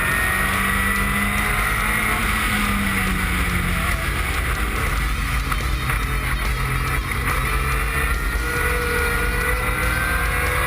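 Historic race cars roar around a racing circuit at Phakisa, a continuous dense engine drone with shifting pitch as they pass close together, loud throughout with wind noise mixed in.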